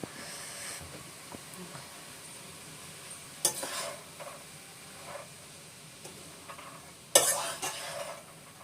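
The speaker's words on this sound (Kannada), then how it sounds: "ಇದಕ್ಕೆ ಇವಾಗ ಕಾಯಿ ತುರಿ ಹಾಕಿ ಒಂದು ಐದು ನಿಮಿಷ ಫ್ರೈ ಮಾಡಿ" Vegetable palya with grated coconut frying in a pan, a quiet continuous sizzle with occasional stirring scrapes and two louder clanks of a utensil against the pan.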